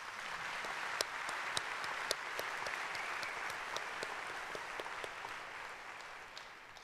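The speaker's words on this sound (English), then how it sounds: "Please now join me in acknowledging them with your applause." A large crowd at the SIUE 2013 spring university commencement claps steadily, a dense, even wash of applause from a big audience with a few sharper individual claps standing out.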